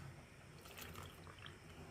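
Water is poured into thick pancake batter in a home kitchen. The pour is steady and close, with a faint trickle running for about two seconds and no talking.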